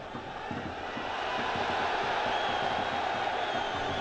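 Football stadium crowd at an AFC Champions League group match between Air Force Club and Al Ittihad, a dense sustained roar that swells slightly and holds steady throughout, distant and broad with no clear voices on top.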